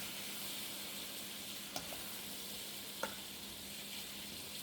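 Chicken breast pieces searing in a pan make a steady, quiet sizzle throughout, with two faint utensil taps standing out briefly and no talk.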